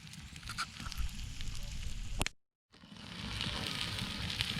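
Potatoes seasoned with salt and pepper and a buffalo steak cook over an evening campfire, giving a steady soft sizzle and crackle that stops for a moment, then returns hissing a little brighter.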